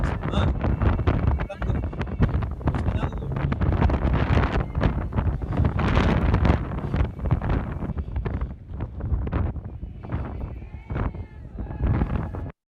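Loud, constant wind buffeting a microphone, low rumbling gusts throughout, with voices faintly audible underneath.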